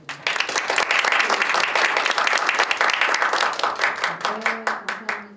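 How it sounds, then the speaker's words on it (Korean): An audience at a year-end entrepreneurs' forum applauds to open the event: loud, dense clapping fills the room, then thins into scattered claps as a voice begins speaking near the end. "여러분의 큰 박수로 시작하겠습니다"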